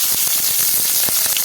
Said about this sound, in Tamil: கடுகு கொஞ்சம் உளுந்து போட்டு கொஞ்சம் காஞ்ச மிளகாய் கட் பண்ணி போட்டுக்கலாம் தாளிப்புக்கு